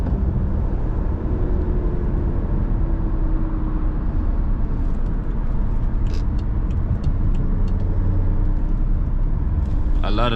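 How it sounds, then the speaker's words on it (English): Steady road traffic rumble heard from inside a BMW F10 535i at night, a continuous low roar with faint higher noises drifting over it and a brief clatter near the end. "A lot of traffic"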